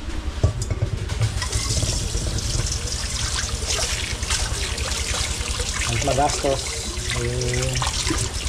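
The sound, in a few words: water running from tap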